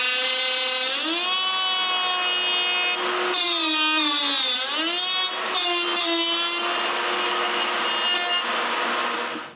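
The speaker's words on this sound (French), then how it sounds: "Et là, c'est le temps de couper la rainure." A power saw cuts a groove into wood for a knock-down joint, a loud close whine whose pitch rises and dips as the blade bites, continuous throughout with no talking.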